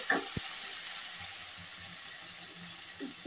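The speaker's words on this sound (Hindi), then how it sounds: "अब थोड़ी देर के लिए हम इसको फ्राई करेंगे अच्छे से।" Onion, tomato and capsicum frying in a pan give a steady, soft sizzle and hiss throughout, with a couple of faint clinks at the start and end.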